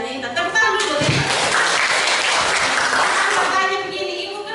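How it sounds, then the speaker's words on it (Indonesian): A classroom full of students claps together in a dense, steady burst of applause lasting several seconds, close and loud, with a few young voices mixed in. "Tepuk tangan dulu, Intan."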